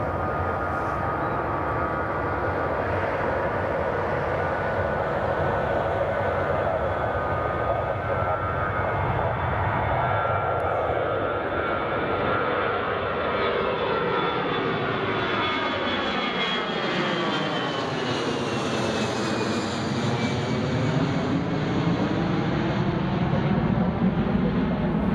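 An Airbus A320 jet takes off at Newcastle Airport, its continuous engine roar loud and steady with shifting whining tones as it climbs and pulls away, with no talk.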